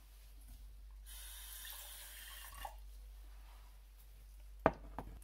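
About 50 millilitres of water is poured into a measuring jug while making a spicy green vegetable curry, a brief soft splashing stream followed by a pause and two sharp clunks near the end.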